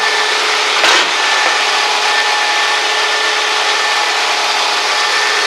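A Dodge or Plymouth engine running just after a new alternator went in, heard as a loud, steady, close hiss-like roar with a faint whine and a brief knock near the start.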